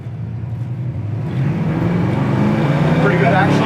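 A 1972 Chevy Nova, a classic car with an automatic transmission, pulls away from a stop, its engine note rising steadily and growing louder as it accelerates, with speech mixed over the engine.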